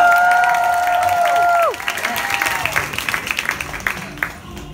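A festival crowd at a live rock gig breaks into clapping and cheers as a sustained guitar chord slides down and fades, the applause continuing in a lively, uneven wash with scattered shouts.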